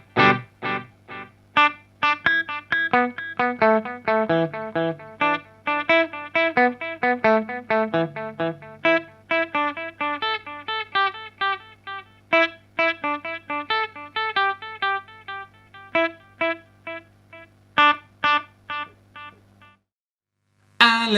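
Electric guitar played through a delay effect in an amp's effects loop, picked notes and short phrases with repeating echoes trailing after each, steady and clear before a short pause at the end.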